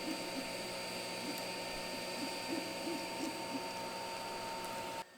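A large 3D printer printing transmission parts, producing a steady mechanical whir and hum with faint rhythmic stepping pulses, continuous and fairly quiet until it cuts off at the end.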